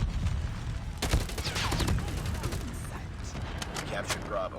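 Gunfire in the Call of Duty Mobile video game: repeated sharp shots in rapid bursts, loud and close, with someone talking over the shooting throughout.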